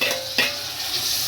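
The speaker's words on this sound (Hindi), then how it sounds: "मीडियम साइज के टमाटर डाल रही हूँ।" Medium-sized tomatoes drop into a hot pan with a quick thump and splash, then hiss and sizzle as they fry. A steady bright crackle fills the close, loud sound, with no voices.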